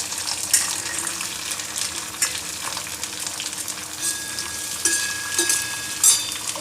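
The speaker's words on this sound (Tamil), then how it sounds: "இப்போ இதில் இந்த புளியங்காவையும் இந்த மிளகாயும் சேர்த்து நம்ம வதக்கிக்க போகிறோம்." Tamarind pods and chillies sautéing in a kadai with fenugreek, a steady close sizzle with occasional scraping stirs and small pops, no voices.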